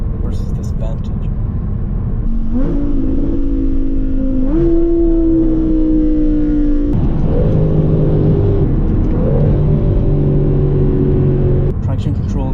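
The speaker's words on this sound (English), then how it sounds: "Here's the difference of what a Huracan downshift makes versus this Vantage." A Lamborghini Huracan and an Aston Martin Vantage downshift in turn, with rising, stepped engine revs and blips over a loud continuous rumble close to the microphone, and no voices over the engines.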